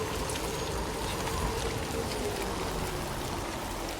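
Heavy downpour in the Death Stranding 2 video game, a steady dense hiss of rain and water noise holding constant and fairly loud throughout, with no talk over it.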